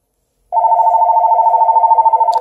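A telephone line rings on an incoming call to a Google Voice number routed through an OBi200 adapter, one steady buzzing ring tone starting abruptly after a short silence and holding loud and close.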